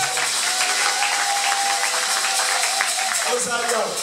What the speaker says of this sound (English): Somebody clap for the Lord of Jesus.